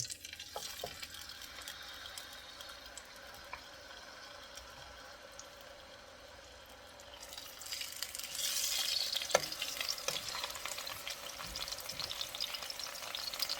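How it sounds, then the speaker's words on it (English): Beef shanks sear in hot oil for mechado, a steady broadband sizzle that swells louder and brighter halfway through, with a few faint clinks and no voices. "I just want to sear both sides of the shanks just to give that color"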